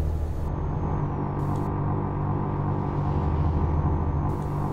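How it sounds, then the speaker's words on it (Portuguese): Truck tyres run over rumble-strip lane markings in the Euro Truck Simulator 2 driving game, giving a steady low droning rumble with engine hum throughout, continuous and fairly loud. "Esse barulho que tá fazendo assim, ó, é quando o pneu pega ali na faixa branca"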